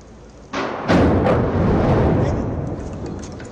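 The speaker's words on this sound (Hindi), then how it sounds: "3 सेकंड में ब्लास्ट टेस्ट हुआ, सुनिए ये धमाके की गूंज" A trial demolition blast at the Supertech Twin Towers lands as two heavy thumps in quick succession, followed by a loud, broad rumbling echo that rolls on and slowly fades.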